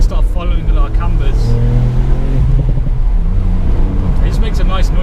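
A 2019 Ford Fiesta ST MK8 engine pulls hard under acceleration, a loud steady drone that rises in pitch across the span, heard from inside the car.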